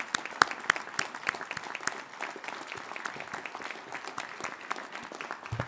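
A university crowd claps steadily throughout, a dense patter of many hands sustained for several seconds without cheering or voices.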